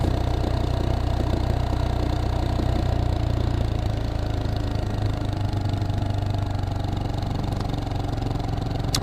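A Geon X Road light 250 motorcycle engine runs steadily on a city ride, a constant low mechanical drone with little change, close and continuous with no talk.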